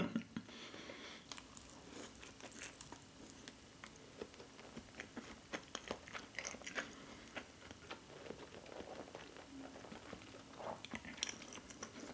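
Someone bites into and chews pork nanban, a Miyazaki-style chicken nanban dish made with braised pork belly and tartar sauce, with close, soft wet chewing and scattered crunchy bites across the quiet clip, and no speech.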